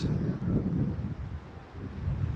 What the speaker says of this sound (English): So the gimbal is even blowing, it's so windy around this area.